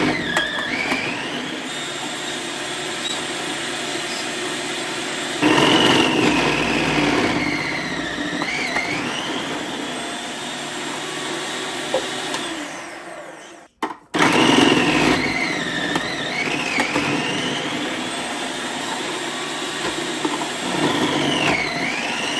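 A Cuisinart 7-cup continuous feed food processor whirs loudly while shredding mozzarella cheese, a steady close motor drone with rising and falling pitch as the load shifts, briefly cutting out midway before starting up again.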